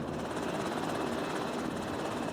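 An air force search-and-rescue helicopter hovers nearby, its rotor producing a loud, constant thudding roar with rapid blade pulses and no pauses.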